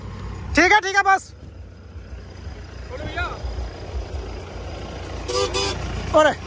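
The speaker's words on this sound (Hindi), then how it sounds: "और हॉर्न भी बैठ गया" A car's weakened horn gives a few short, thin honks, some in quick double bursts, spaced apart over a low background rumble.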